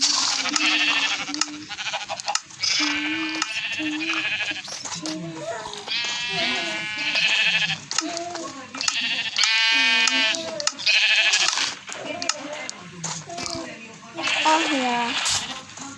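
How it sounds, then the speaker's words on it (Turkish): Several sheep bleat loudly and repeatedly, overlapping one another in a crowded, close chorus of wavering cries. "Koyun."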